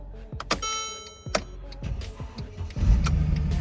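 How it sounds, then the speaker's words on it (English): A 2012 Mercedes-Benz GLK 350 4Matic starts after key programming: sharp clicks and a short electronic chime give way to the starter cranking and the engine catching into a steady idle, heard up close. "Car started."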